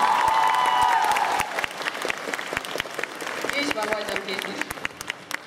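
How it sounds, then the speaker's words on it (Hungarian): At a cosplay performance contest, the audience applauds the technicians who fixed the lights, with sharp individual claps and crowd noise while a speaker talks over it on a microphone. "szeretnék nagy tapsot kérni a technikusoknak, akik így hipergyorsan meg is javították a fényeket."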